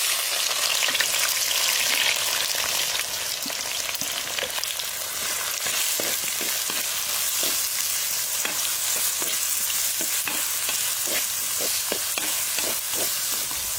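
Onions fry in hot oil for a mutton masala, a steady close sizzle with a run of quick rhythmic scraping stirs against the pan in the second half, no one speaking.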